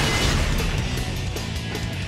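Explosion in the video game Sonic Generations, a dense loud rumbling burst with sharp pops and crackles layered over sustained game noise.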